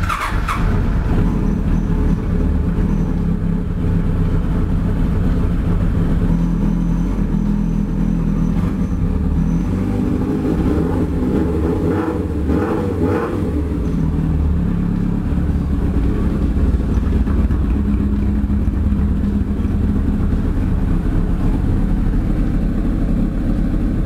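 A motorcycle stripped of its fairings, just started in neutral during home preventive maintenance, holds a steady low idle throughout, a continuous close rumble with no talking over it.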